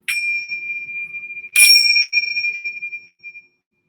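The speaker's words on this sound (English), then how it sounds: "this is little chimes" Small hanging chimes ring out in a bedroom, bright metallic tones struck in a few clusters, with a louder burst midway and tones decaying into silence at the end.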